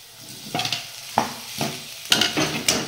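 Boiled potatoes with turmeric and coriander powder are stirred in a pan for dosa filling, with several scraping spoon strokes against the pan over a soft sizzle, close and fairly loud.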